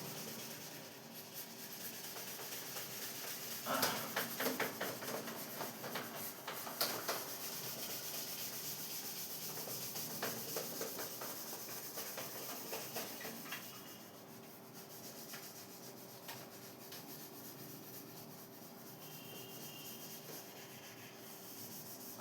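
Chalk being rubbed off a classroom board, a soft, irregular scratchy rubbing with scattered sharper scrapes and taps, faint and close, continuing for about twenty seconds without talking.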